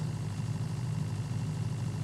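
An RV water pump after a noise-reducing modification runs at close range, giving a steady, softer low drone with a faint vibrating hum and no talking.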